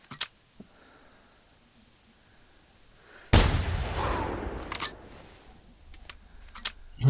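A single loud, sharp rifle shot fired at an animal in theHunter: Classic, bursting out of a quiet background of chirping insects and trailing off in a long echoing decay.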